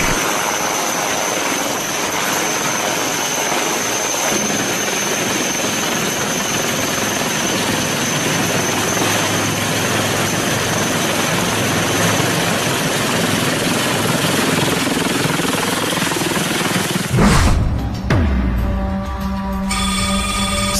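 A military helicopter with a Shakti engine and carbon fibre body runs steadily and loudly at close range for most of the time, its engine and rotor roar constant before ending abruptly.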